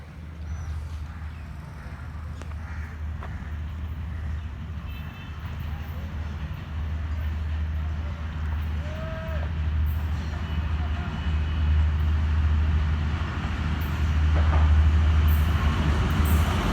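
Jaffar Express train passing through near Jhelum, Pakistan: a continuous, heavy rumble of wheels and cars on the track, building slowly louder and close by throughout, with no break.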